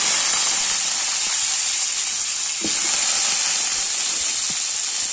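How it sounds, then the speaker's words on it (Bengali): Potatoes go into hot oil in a kadai and hiss steadily, a loud, even sizzle close by with a couple of soft knocks and no voices. "এখন আলুগুলো এতে দিয়ে দেবো।"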